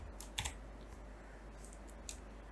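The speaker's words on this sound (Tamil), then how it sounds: "இப்போ நான் டெக்ஸ்ட் ஒன்று டைப் பண்ணிவிட்டு" Typing on a computer keyboard while entering text in Adobe Illustrator: a few quiet, scattered key clicks with a short cluster near the start and another tap later, faint and close, no talking.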